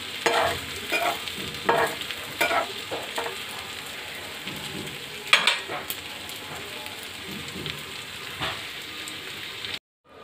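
Aloo paratha frying in oil in a pan, a continuous crackling sizzle with occasional louder pops and scraping stirs, close and steady before cutting off at the end.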